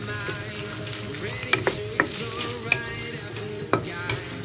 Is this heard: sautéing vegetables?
yes